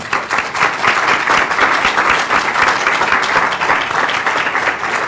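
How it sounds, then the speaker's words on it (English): A round of applause from a workplace audience for a hospital improvement team at a report-out, dense steady clapping from many hands, fairly close and loud, sustained without a break. "So I think the team deserve a round of applause."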